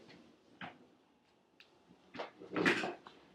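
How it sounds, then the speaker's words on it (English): A chair is moved indoors in a quiet room, a few faint knocks and scrapes followed by a louder shuffling scrape near the end. "I'm going to stand up and I'm going to move my chair here"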